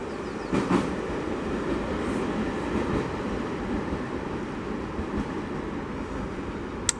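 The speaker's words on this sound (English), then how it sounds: "Watch this train go by." A train rumbles steadily past nearby, a broad continuous roar with faint rail clatter, no voices.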